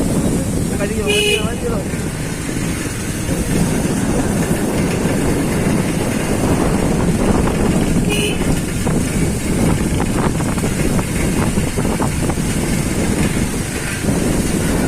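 Strong wind from a Kalbaishakhi (nor'wester) storm roars and buffets steadily throughout, a heavy rushing noise with voices faintly mixed in.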